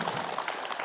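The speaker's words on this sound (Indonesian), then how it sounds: "Boleh tepuk tangan." Studio audience applause on a morning religious talk programme, a brief, faint wash of clapping with no voices.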